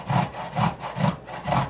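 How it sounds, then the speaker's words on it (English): Ginger root grated by hand for a fermented ginger drink: four even rasping strokes in a steady back-and-forth rhythm, close and fairly loud, with no talking. "You take the ginger root and you just grind it down."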